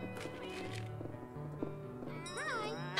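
Cats in the cat cafe video game Cat Cafe Manager meow softly over light background game music, with a short rising meow near the end.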